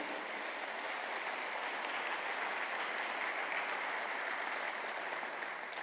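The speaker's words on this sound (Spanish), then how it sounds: "Si está aplaudiendo para el Señor, hágalo bien, iglesia." A church congregation applauding during a sermon, a steady dense wash of clapping from many hands filling the room, fairly distant and even throughout.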